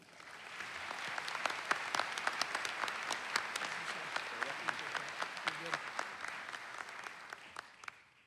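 Audience applause welcoming a speaker at a chiropractic college commencement, dense sustained clapping from a large crowd for several seconds that tapers off at the end.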